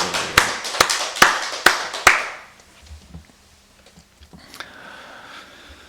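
Six sharp hand claps in an even rhythm, fairly close, at a Wednesday church worship service, followed by near silence with faint background noise.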